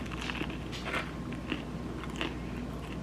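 Bites and chewing on a crunchy 7-Eleven chicken sandwich with pickles, a series of close crisp crunches and crackles repeating over a low steady background hum.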